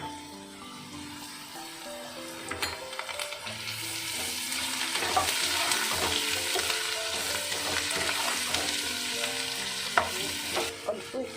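Ground spices with turmeric and ginger paste sizzle and fry in a pan while being stirred, a steady close crackle that builds slightly and carries on alone without talk.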